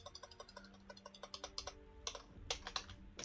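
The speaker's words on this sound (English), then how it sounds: "Use the cursors on the keyboard." Rapid typing on a computer keyboard to name a save game in Baldur's Gate 3, with a quick run of light, clicky keystrokes at an irregular pace, faint and close, and no voice.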